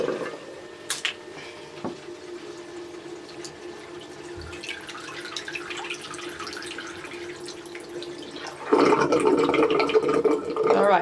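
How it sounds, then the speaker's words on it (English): Water drains from a basin after a prewash of passion twists, a soft trickle with scattered drips that swells into a louder rushing gurgle for the final couple of seconds. "I'm just draining it, and then I'm going to let this out, let the water out"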